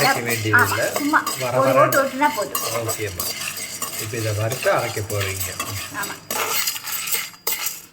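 Dried red chillies, black pepper and cumin dry-roasting in a kadai for puliyodarai, with steady spoon stirring, scraping and light metallic clinks running close and continuous.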